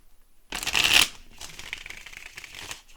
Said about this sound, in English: We're going to give it 3 shuffles because there were so many 3s.